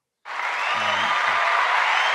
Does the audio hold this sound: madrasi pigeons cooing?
no